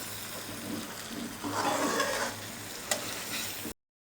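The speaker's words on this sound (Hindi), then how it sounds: "इसको आप अच्छे से मिक्स कर लेंगे। फ्लेम हमने हाई कर लेनी है।" Potato and egg masala stirred over a high flame with green coriander and chillies, a close, continuous sizzle that swells as the spoon scrapes through, with one sharp clack near the end before it cuts off.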